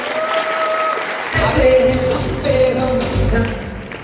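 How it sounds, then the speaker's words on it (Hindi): Audience clapping at a product plan event in Raipur, a crowd of hands breaking into sustained applause that swells partway through. "एक बार ताली बजा सकते हैं उसके लिए?"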